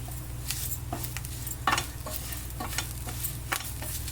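Asafoetida sizzles in hot oil for a chennangi leaf pachadi, a steady close sizzle broken by several sharp spoon scrapes and clinks against the pan, with no speech.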